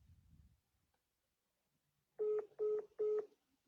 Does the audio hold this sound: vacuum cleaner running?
no